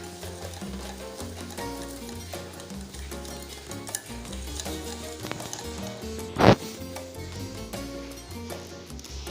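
A spoon beats thin jalebi batter in a bowl with steady stirring strokes over background music, with one brief louder clatter near the end.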